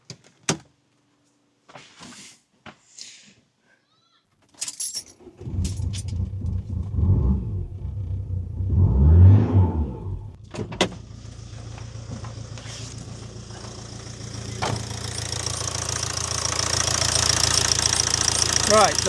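Ford Transit Connect engine, with its air box removed, cranks and starts after a few clicks and thumps, revs up briefly, then settles into a steady running drone that grows slightly louder and brighter toward the end.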